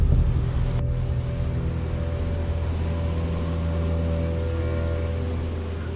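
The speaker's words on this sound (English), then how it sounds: "Timing the waves is essential for making it in without any issues." Ocean surf at San Diego's Ocean Beach near the rocks, a steady, loud low roar of churning water with wind noise across the microphone, continuous with no distinct breaks and no voices.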